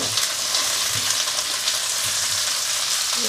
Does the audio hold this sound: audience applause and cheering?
no